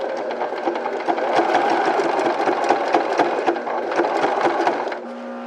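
A sewing machine stitches fabric for a tote bag in a steady, rapid whirring run of needle strokes, close and clear, then stops and leaves a low hum.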